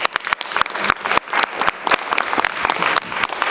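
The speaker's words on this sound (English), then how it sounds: "give Grace a big round of applause" An audience claps loudly and steadily for a participant named Grace at a social-change talk, with dense, crackling applause filling the room and no voices over it.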